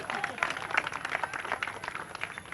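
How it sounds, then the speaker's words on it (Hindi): Audience applause welcoming a guest from Bangladesh at a televised gathering, steady clapping from a crowd mixed with voices throughout. "पहले तो इनका स्वागत करिए ताली बजा के सारे लोग"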